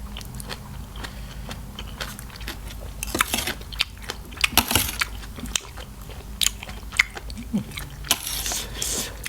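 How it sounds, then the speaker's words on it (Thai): Crunchy Thai squid salad with squid tentacles being chewed close to the mic, irregular crisp bites and crunches over about nine seconds, with faint background voices. "ปลาหมึกกรุบๆเลย"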